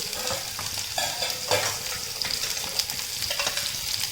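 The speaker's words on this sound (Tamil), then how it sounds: "இப்போ வெங்காயம் வதங்கிடுச்சு" Steady sizzling of onions frying in a pan, with occasional scraping stirs, no voices.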